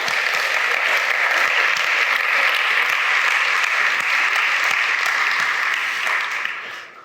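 A Spanish-speaking church congregation applauds for the King during a sermon, the clapping full and sustained for several seconds before tapering off at the end.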